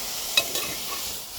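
A short stir of pumpkin and ash gourd leaf thoran in a pan: a quick scrape and soft clink of a spatula over a faint sizzle, close by.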